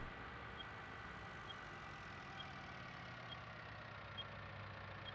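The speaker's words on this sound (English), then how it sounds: "the John Deere tractors actually do beep like that with the hazards on" Faint, evenly spaced high beeps from a John Deere tractor's hazard lights in Farming Simulator 19, about one per second, sound over a steady low engine rumble.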